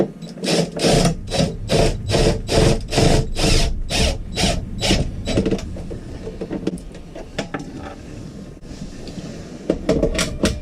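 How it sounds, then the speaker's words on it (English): Screws driven in one after another while a Boss single-DIN radio head unit is mounted in a Class A RV dash, giving a rapid ratcheting whir in regular close bursts for several seconds, then scattered quieter clicks and rubbing. "Put the last screw in."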